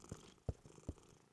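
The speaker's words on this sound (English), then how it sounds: "Mummy and Caillou heard a quiet meow." A cat in a cartoon bedroom, hidden under bed covers, gives three short, quiet sleepy sounds that read as soft meows or purrs, evenly spaced and fairly close.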